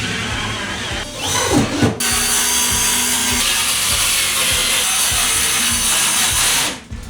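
A circular skill saw rips through a boat's interior structure, running as a steady loud whine for several seconds after a brief start, with faint taps and a short drop before the blade spins down near the end.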